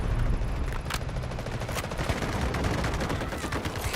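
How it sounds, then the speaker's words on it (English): Dense, continuous battlefield gunfire and blasts during an artillery barrage in the video game Delta Force, loud and relentless with rapid overlapping cracks throughout and no clear breaks. "Roger that, artillery barrage incoming."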